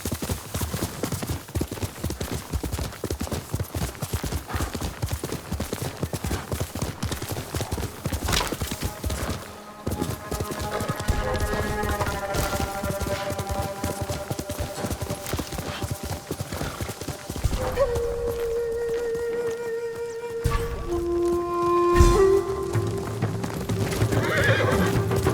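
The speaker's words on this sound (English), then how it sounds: "You're a good horse" Horse neighing and galloping in the samurai open-world game Ghost of Tsushima, with dense hoofbeat clip-clop over a busy game soundscape and loud, drawn-out whinnies standing out near the end.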